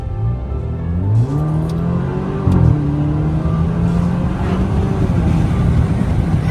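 A car accelerates hard, its engine note climbing in pitch through the gears as it pulls away, loud and close with no talking.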